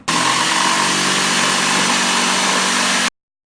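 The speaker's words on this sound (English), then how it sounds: "what I'm going to do next is cut it out with the jigsaw" A jigsaw cuts a Goomba shape from plywood with a loud, continuous, close buzzing whine. The cut lasts about three seconds and stops abruptly.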